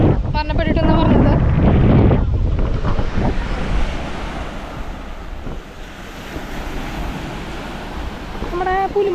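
Rough surf pounds Snehatheeram Beach in Thrissur near a rock breakwater in a choppy sea. A loud, continuous wash of waves and wind rises and falls, and voices talk over it at the start and end.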